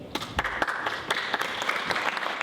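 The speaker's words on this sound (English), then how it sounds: "if you would please hold your applause until the end" Audience applause at a Juno Beach mayor and town council candidate forum, a steady patter of many hands clapping at moderate loudness in an indoor room, sustained throughout with no talk over it.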